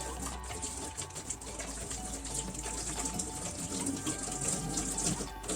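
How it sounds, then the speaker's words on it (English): Hands are washed under a steady stream of running tap water, a continuous soft splashing and gushing close by with no talking. "Start with washing my hands."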